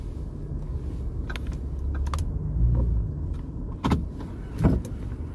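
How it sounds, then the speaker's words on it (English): A car started with a push-button inside the cabin: soft button clicks and taps over a steady low rumble that swells briefly, with a couple of sharper knocks near the end. "Trying to press the button to start the car."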